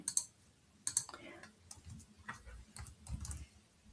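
Alphabetic keys tapped on a computer keyboard while entering answers in an interactive lesson simulator, a quiet, close sequence of sharp irregular clicks, some in quick pairs, without speech.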